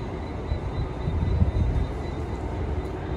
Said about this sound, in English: at Cork Kent train station with Eva, Olivia, and Emma.